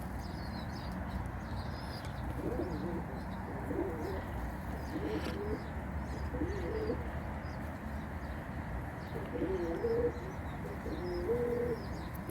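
Soft, repeated cooing of pigeons carries through a steady hiss of outdoor noise, with a few faint chirps scattered throughout.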